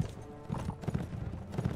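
Horses gallop in the video game Mount & Blade Warband, a dense rolling clatter of hooves in steady overlapping beats, fairly loud and close, with battle noise behind.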